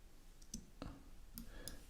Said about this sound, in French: je vais appuyer sur la touche Option ou Alt de mon clavier